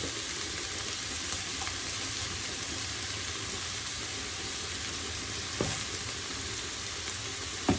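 Chickpeas with tomato frying in a pan, a steady dense sizzle running throughout at an even level, with a couple of faint clicks from stirring.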